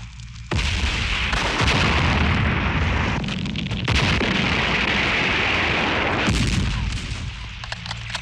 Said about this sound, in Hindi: कवरिंग फायर मार।